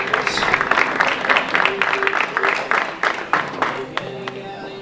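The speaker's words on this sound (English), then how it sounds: "And a round of applause for Terry Collins." Spectators at a high school baseball game clap for Terry Collins before the ceremonial first pitch, with scattered sharp claps over a steady spread of applause and a public-address voice talking over it.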